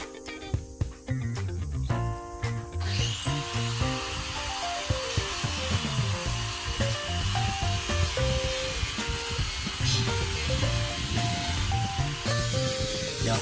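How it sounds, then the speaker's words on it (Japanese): Angle grinder fitted with a rust-removal sanding disc, stripping rust and old paint from a vehicle frame, grinding steadily and loudly throughout with a continuous whine and shifting pitch as the disc bears on the metal. "やはりグラインダーで削っていく方が全然早いですね"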